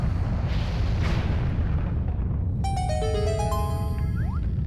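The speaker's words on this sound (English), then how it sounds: "bombable rock plus bomb flowers equals obvious path forward" In the video game The Legend of Zelda: The Wind Waker, a bomb flower blows up a bombable rock with a loud rumbling blast, followed by bright chiming tones as the blast dies away.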